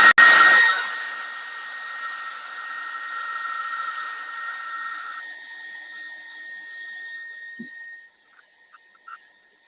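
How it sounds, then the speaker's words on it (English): A hair dryer blows steadily on a fresh coat of paint, a loud whooshing hiss right from the start that runs for about eight seconds and then switches off, with a few faint clicks afterward. "let's go ahead and hit this with the dryer"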